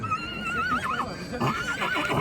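A horse at a livestock market in Nookat whinnies in long, wavering neighs, loud and close, repeating over a bustling background while people talk nearby.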